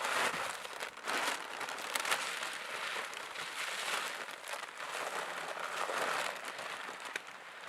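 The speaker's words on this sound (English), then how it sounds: "So we're going to dump this out" Supplemental livestock feed being dumped out onto the ground, a steady loose rattling pour with crinkling bursts, close and continuous throughout.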